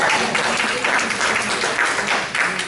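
Room of trainees clapping together, a steady broadband patter of many hands sustained throughout at moderate loudness, with faint voices mixed in.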